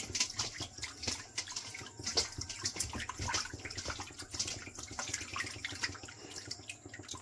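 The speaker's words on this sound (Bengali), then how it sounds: "এখানে আমি গামলাতে জল নিয়ে নিয়েছি, এখানে মিষ্টি নিয়ে নিয়েছি, মিষ্টিগুলো আমার ঘরে ছিল, এটা আমি ধুয়ে নিচ্ছি।" Store-bought rasgulla sweets are rinsed by hand in a bowl of water, with continuous close splashing, sloshing and dripping throughout and no voices.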